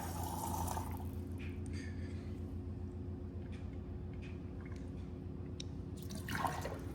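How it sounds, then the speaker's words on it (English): Cold water streams steadily from a reverse osmosis filter dispenser into a cup, a continuous trickling pour over a low machine hum, with a brief splash near the end. "push the ambient button here, and it will spit out cold water"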